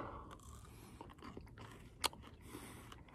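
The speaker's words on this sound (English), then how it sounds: "time to chow down on a little saguaro" Someone bites into and chews saguaro cactus fruit while hiking, with soft close-up crunching and wet chewing, one sharp crisp bite standing out midway, quiet and without talk.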